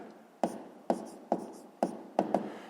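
A pen writes out a fifth-grade maths solution by hand, five or six sharp taps and short scratches in a quick, uneven rhythm, close and quiet, with no talking.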